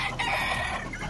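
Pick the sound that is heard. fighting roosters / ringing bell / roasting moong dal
fighting roosters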